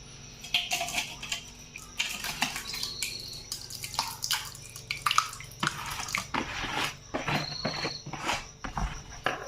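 Water drips and trickles from grated ash gourd (chal kumro) pressed through a net, as soft irregular splashes and drips under a faint insect-like background hiss.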